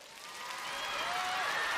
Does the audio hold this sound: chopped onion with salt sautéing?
no